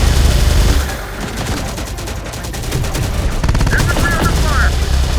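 Rapid machine gun bursts and overlapping gunfire in the Terminator: Dark Fate - Defiance battle game, loud and continuous with a short radio-style voice line mixed in.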